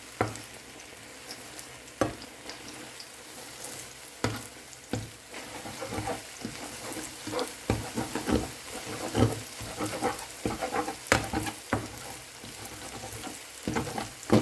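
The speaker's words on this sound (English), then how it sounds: "we can start cooking by adding cooking oil in a heated pan and fry the beaten egg" Beaten egg frying in hot cooking oil in a heated pan, a steady sizzle broken by repeated sharp scrapes and knocks of a utensil, close and moderately loud with no talking.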